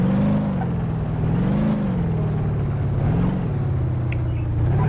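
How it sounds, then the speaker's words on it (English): An old-style video game car engine sound drones at a low, rumbling pitch, its revs rising and falling gently, continuous and fairly loud with no talking. "This is what cars used to sound like in the game."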